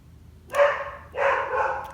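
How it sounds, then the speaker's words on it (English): Dog barking at something upstairs indoors, two muffled, fairly close barks followed by a softer trailing woof, heard alone without talk. "She's barking at something upstairs."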